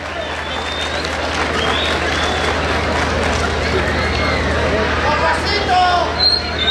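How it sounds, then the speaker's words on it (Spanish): A rodeo (jaripeo) crowd applauds and cheers in a steady, dense wash of clapping and crowd noise, with voices and whistles mixed in throughout. "¡Venga el aplauso,"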